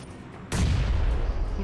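Heavy gunfire bursts in abruptly after a brief quiet lead-in and rolls on loud and dense, like sustained cover fire from a teammate in a battle royale shooter game.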